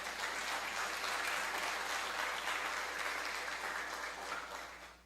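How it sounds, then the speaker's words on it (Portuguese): Church congregation applauding steadily throughout, a dense continuous wash of clapping that tapers off slightly at the end. "Aplaudo o Senhor por isso."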